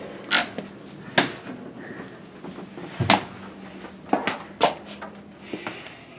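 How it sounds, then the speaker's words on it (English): A fake panel is lifted away to reveal a tiny door into the west case of a church pipe organ. Several sharp wooden knocks and clunks are heard, spaced apart, close and moderately loud in a quiet room. "removing a fake panel which reveals this"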